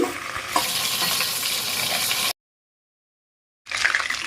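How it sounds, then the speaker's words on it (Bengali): Chicken fries in oil for chicken kosha with a dense, even sizzle and some stirring, cut off by a short stretch of silence before resuming. "দেখো আমার ভাজা হয়ে গেছে মাংসটা আমি তুলে নিচ্ছি"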